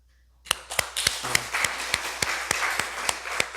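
A church congregation applauds during a Sunday service, with steady crowd clapping beneath a series of regular, sharp, evenly spaced claps that continue loudly to the end.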